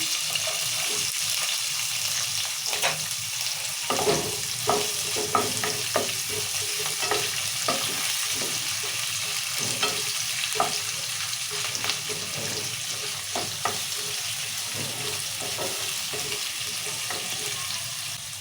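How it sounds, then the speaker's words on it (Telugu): Onion stir-fries in hot oil in a pan while rava upma is being made, with a continuous loud sizzle and frequent scraping stirs, close by, with no talking. "ఇక ఉల్లిగడ్డ కూడా వేస్తున్నా"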